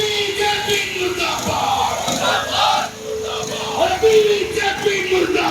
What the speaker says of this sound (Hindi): कांग्रेस कार्यकर्ताओं ने साक्षी बागान से रैली निकालते हुए डीसी कार्यालय तक मार्च किया और केंद्र सरकार के खिलाफ जमकर नारेबाजी की।